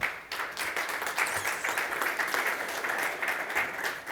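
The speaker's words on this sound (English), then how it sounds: "So give her a big applause." Audience applause for a woman moderator joining a deep-tech funding panel, a steady wash of many hands clapping at moderate distance that holds for about four seconds with no one speaking.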